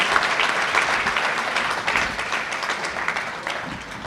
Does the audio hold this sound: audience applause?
yes